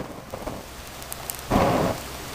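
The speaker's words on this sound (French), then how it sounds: "Et en plus il pleut" Rain falling outdoors, a steady hiss of drops that swells into a louder burst of heavier downpour midway before easing back to a soft patter.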